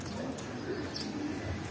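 A racing pigeon coos softly at close range in a short, steady burst, with no talk over it.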